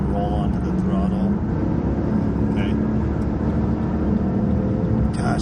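A 2013 Lexus LS460 F Sport with a naturally aspirated 4.6 liter V8 accelerates hard and downshifts, its engine note rising in pitch under a steady road and cabin rumble.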